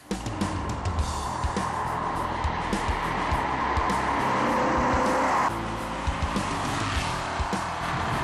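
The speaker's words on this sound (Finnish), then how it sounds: "Auto lähtee kärkkäästi vääntämään jo matalilta kierroksilta alkaen" An Aston Martin V8 sports car engine roars steadily while accelerating, revving hard with a throaty, sustained tone that shifts slightly near the end, heard without any talking.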